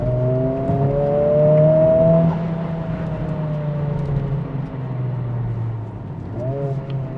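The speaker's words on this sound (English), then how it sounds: "You can kind of hear the artificial noise coming from the engine" A 2023 Honda Civic Type R FL5 engine rises steadily in revs and then eases off, with a sustained, droning tone under the steady rumble of cabin road noise. A brief rev-matched blip comes near the end.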